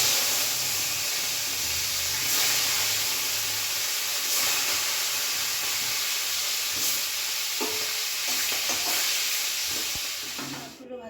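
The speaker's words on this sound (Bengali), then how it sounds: "মাছগুলো ভেজে নিচ্ছি।" Pieces of fish rubbed with salt and turmeric fry in hot oil in a home kitchen, a continuous close hissing sizzle with occasional pops and utensil taps that fades slightly near the end, with no speech.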